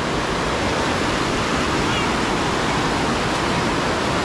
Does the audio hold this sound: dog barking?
no